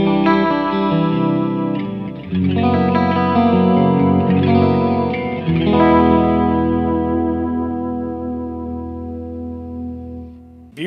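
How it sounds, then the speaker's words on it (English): Electric guitar played through the clean channel of an EVH Stealth 100 amplifier with chorus and delay: a few ringing chords strummed close and loud, each shimmering and echoing, then left to sustain and fade away. "So this is what the clean channel sounds like in its normal setting right now. I have a little bit of chorus and delay on it"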